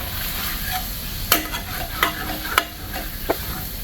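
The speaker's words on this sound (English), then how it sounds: "Well, I almost got that pan deglazed." A pan of chuckwagon beans is deglazed on the stove: a steady loud sizzle and bubbling, with several sharp scraping strokes of a utensil across the pan bottom, close up and without speech.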